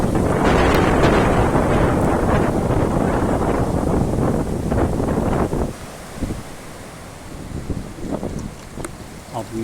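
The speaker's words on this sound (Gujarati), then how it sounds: "વરસાદ સાથે વાવાઝોડું શરૂ થઈ શક્યું છે" A violent windstorm with rain sweeping over a road with vehicles, roaring as heavy, continuous buffeting gusts that ease slightly in the second half into rougher, intermittent blasts.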